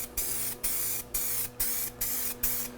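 POR 15 weld-through primer sprays from a can onto the metal of a 1932 Ford Model B pickup in short, evenly spaced hissing bursts, six in a row with brief gaps, close and clear with no talking.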